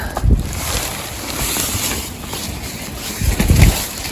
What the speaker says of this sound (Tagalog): lakas talaga nung hangin